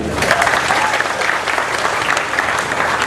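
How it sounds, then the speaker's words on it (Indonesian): Dense audience applause fills a formal cultural dialogue event in Indonesia, a steady wash of many hands clapping close and loud throughout. "Tepuk tangan untuk Indonesia."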